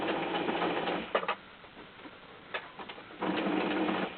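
A sewing machine stitches fabric close by in quick rattling bursts: a run of about a second, a few short taps, then another steady second-long run, with no one talking.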